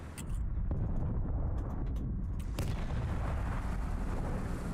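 Tank cannon fire in the Steel Aces tank game: a loud, sustained roaring boom filling the clip, with a sharp blast partway through and heavy low rumble throughout, no talk.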